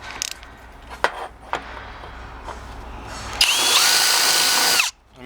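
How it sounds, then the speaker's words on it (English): A power drill spins up a chucked metal part, with a few sharp clicks and clatters followed by a loud, steady whirring motor for about a second and a half before it abruptly stops, close up. "Let's chuck this up in a drill."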